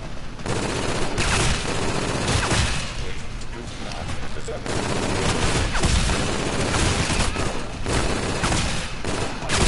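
Rapid bursts of video game gunfire crackle almost continuously in a dense, loud barrage, with occasional heavier booms mixed in.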